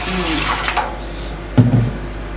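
Water is poured into a pot of boiled potatoes for a rohu fish curry, a brief splashing rush near and fairly loud, followed by a short clunk and a second gush of liquid.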